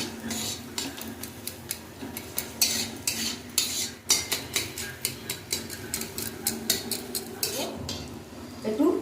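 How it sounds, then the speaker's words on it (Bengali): A utensil scrapes and stirs a curry of taro flowers and prawns in a pan, making rhythmic, close, repeated scraping and clinking strokes with soft sizzling between them. "এখন আঁচটা কমায় একটু ঘেটে দেবো, এটা একটু ঘেটে দিলেই ভালো হয়।"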